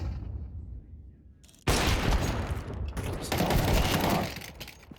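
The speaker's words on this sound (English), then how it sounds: "Flashbang out." A flashbang grenade bursts in a Counter-Strike match, giving a sudden loud blast after a quiet lead-in. Dense rattling gunfire follows close by and swells again before fading near the end.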